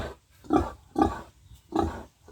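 Pigs in a pen on a pig farm, a series of four loud close grunts at a steady rhythm with short pauses between them, and no talking.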